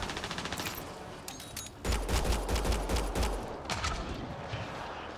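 Rapid automatic gunfire in the 2017 Mass Effect Andromeda video game, continuous bursts of fast repeated shots with a heavier thumping volley in the middle, loud and close, with no talk.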